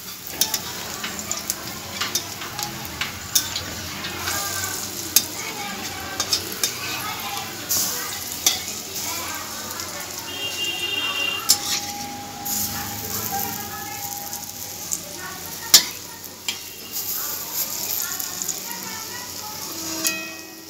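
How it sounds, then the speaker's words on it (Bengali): Chana dal fritters sizzle continuously in hot oil as they are turned and stirred. Frequent utensil scrapes and clinks against the pan punctuate the steady frying. "ওই পিঠটাও আমি লাল লাল করে ভেজে নিচ্ছি"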